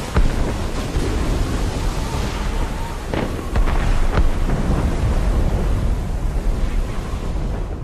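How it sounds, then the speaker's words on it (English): Deep, rumbling booms of cannon fire deep within a forest roll continuously in an Assassin's Creed Rogue cutscene, heavy low thuds overlapping into a dense, loud barrage that fills the whole stretch. "Did you hear that? Cannon fire. Deep within the forest."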